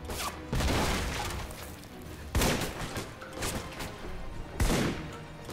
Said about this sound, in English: Oh, those sound like bombs.